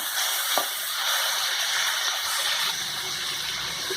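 Onions and tomatoes sautéing in a pan for channa masala give a steady, even sizzle with a soft hiss, close and continuous, with one brief tap near the start and no talking.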